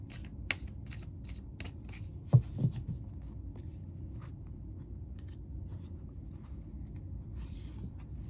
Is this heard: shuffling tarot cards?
yes